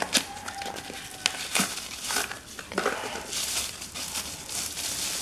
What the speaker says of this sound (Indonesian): Langsung aja kita unboxing dulu